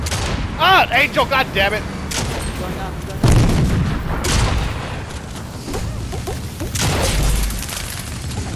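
Video game gunfire, with bursts of shots and booming impacts scattered through the scene, loud and close, mixed with excited shouting and talk from players.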